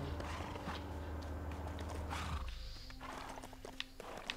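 In a video game, a bandit's horse whinnies through a dense game-audio mix, with clopping and creaking underneath, then the scene thins out to scattered clicks and ticks.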